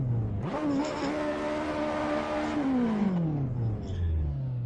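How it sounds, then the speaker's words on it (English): A high-pitched Ferrari 458 engine in a Mazda MX-5 Miata revs up sharply, holds a loud whining note, then winds back down, close by with no talking. "You put a Ferrari engine in your fucking Miata."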